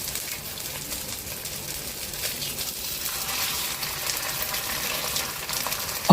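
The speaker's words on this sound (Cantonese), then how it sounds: "見到啲油溫都夠熱啦，咁我哋就放啲雞翼落去，雞皮嗰邊向下" Chicken wings laid skin-side down into hot oil in a pan over high heat with a slice of ginger, a steady broadband hiss of frying that swells slightly as the pieces go in.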